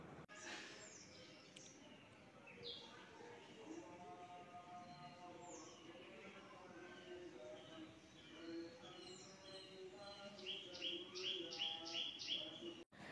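Morning birdsong with many chirps and tweets, plus what may be dove coos, sounds at moderate distance over a quiet background, growing busier with rapid high chirps toward the end.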